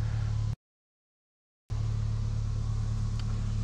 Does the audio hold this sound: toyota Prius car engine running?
yes